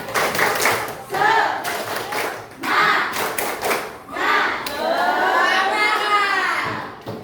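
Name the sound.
class clapping a spirit clap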